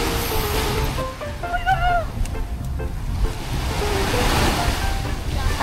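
Sea waves washing onto a beach, a continuous rushing surf with wind noise, and a few short honk-like voices or calls briefly rising above it.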